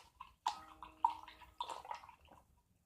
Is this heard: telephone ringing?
no